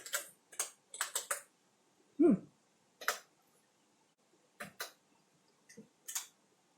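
Scattered keystrokes on a restored Apple Lisa computer keyboard, soft clicks in small bursts with pauses between, close by and fairly quiet, plus one low thud.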